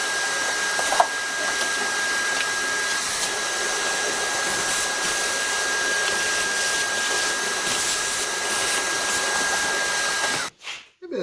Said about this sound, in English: I'm gonna get the vacuum.